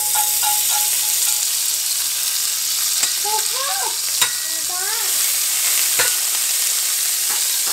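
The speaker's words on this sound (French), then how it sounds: "Cette fois-ci, je vais mettre du beurre." Butter sizzling in a cast iron pan, a loud steady fry close by, punctuated by a few sharp clicks and faint chirpy squeaks from utensil movement, no talking.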